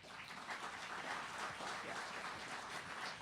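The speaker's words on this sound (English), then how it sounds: "Please give them another round of applause" An audience at a lecture and award ceremony gives a round of applause, a steady, soft-to-moderate wash of clapping heard from some distance with no voices over it.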